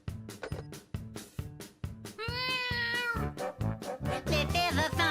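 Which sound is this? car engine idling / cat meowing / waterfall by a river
cat meowing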